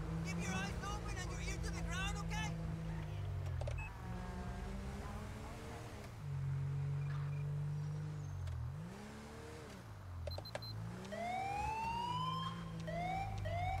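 A police car siren in the video game GTA V with the LSPDFR mod, wailing and yelping in repeated rising and falling sweeps over a steady engine drone, loud and close, with a voice talking over parts of it.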